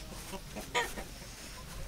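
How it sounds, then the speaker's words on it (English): Chickens cluck faintly in the background, with one brief, sharper cluck standing out against a soft, steady ambient hiss. "What do you think of those chickens?"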